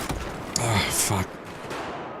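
Gunfire in Battlefield 5 crackles in a quick burst of automatic shots, with someone talking over it before the game noise trails off.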